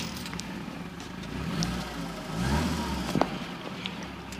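A garaged 1980 Fiat Spider 2000 automatic cranks and fires up nearby. The engine catches with a rising rumble, swells briefly around the middle with a sharp knock, then settles into a low running hum.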